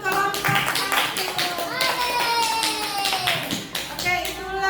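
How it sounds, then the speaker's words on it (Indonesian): Schoolchildren in a classroom clap for a group after its presentation, a brisk patter of small hands under loud overlapping kids' voices and chatter. "tepuk tangan untuk kelompok 1"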